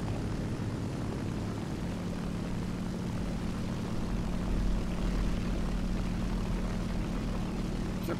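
Lavochkin La-5FN propeller fighter engine in War Thunder, droning continuously with a steady low hum and slight swell in the middle, loud and uninterrupted with no voices.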